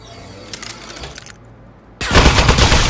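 Rapid automatic gunfire from a weapon in the game Aperture Desk Job bursts in loud and dense, following a quieter stretch of faint clatter and a brief hush.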